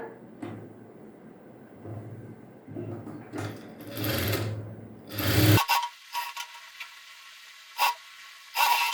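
A sewing machine running steadily for about five seconds as it press-stitches a Madhubala blouse, followed by cloth rustling, handling sounds and a few short knocks.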